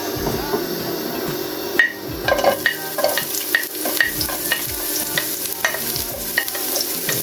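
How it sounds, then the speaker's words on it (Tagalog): Sardines and spinach sauté in oil with a constant sizzle, punctuated by frequent sharp knocks and scrapes of a spoon against the pan in quick succession, close and loud. "Ginisang sardinas. Lagyan natin spinach, kulites."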